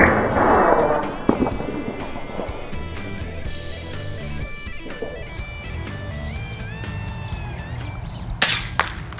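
A 100 foot-pound .22 caliber FX Impact M3 air rifle is fired outdoors on a Kalahari hunt. There are sharp, loud cracks with a broad burst of noise and a brief echoing tail against a quieter outdoor background.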